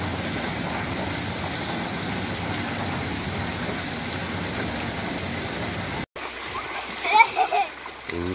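Children splash in river water beneath a steady roar of flowing water; after a brief cut, distinct nearby splashes and excited children's voices come through.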